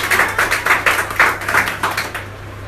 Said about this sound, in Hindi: ताली हो जाओ जरा एक बार।